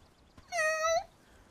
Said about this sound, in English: Oh, little kitty!